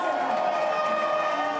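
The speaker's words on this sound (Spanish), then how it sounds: "Su discurso era interrumpido por los gritos y los aplausos" Crowd of over 500 people at a campaign rally for a Colombian candidate, shouting and cheering in a dense, steady roar with scattered voices, close and continuous throughout.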